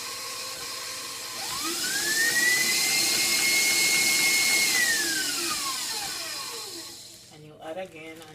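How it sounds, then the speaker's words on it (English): An electric mixer whirs through royal icing, a whine rising in pitch as it speeds up, holding steady, then winding down before a few clatters at the end. "Turn on the mixer."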